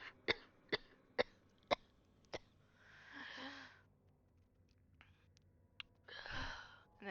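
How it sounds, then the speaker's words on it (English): A person gives a string of five sharp, evenly spaced coughs, followed by raspy throat-clearing and breathy wheezes, close and fairly quiet in an otherwise still room. "as he pauses to cough"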